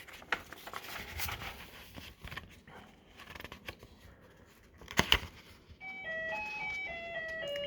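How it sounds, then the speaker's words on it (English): A Trik Trak Playmobil trains arcade game's sound circuit plays electronic noise: scattered clicks and rustling handling sounds, a sharp clatter midway, then a steady series of beeping electronic tones near the end, fairly quiet. "And it's making noise again. This is the sound circuit."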